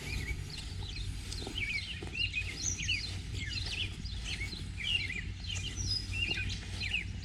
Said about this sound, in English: And you can hopefully hear the birds.